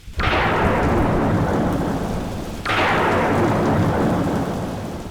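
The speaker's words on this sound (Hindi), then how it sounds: "भरी बरसात भी हो रही है" Heavy rain pours down in a steady, loud roar while two big thunderclaps break out, one right at the start and another midway. Each crack swells over the downpour and then rolls off slowly, with no voices.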